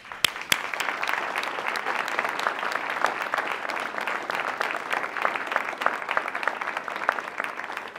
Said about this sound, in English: Stand so we can applaud.